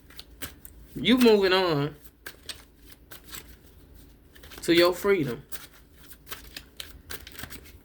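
Tarot cards shuffled by hand in two brisk bursts of rapid riffling and flicking, close and crisp, separated by pauses while someone speaks.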